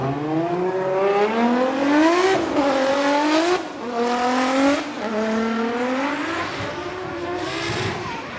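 Toyota GR Corolla race car with Cusco Racing livery drifting at Okayama International Circuit during Formula Drift Japan qualifying, engine rising and falling loudly through repeated revs with tire squeal, near and continuous.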